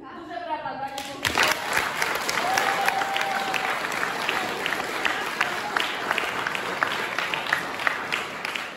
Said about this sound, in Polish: Duże brawa, panie.